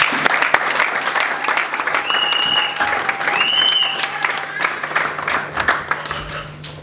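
Congregation at a church service clapping in acclamation of the Lord, steady loud applause filling the room with a few voices rising over it.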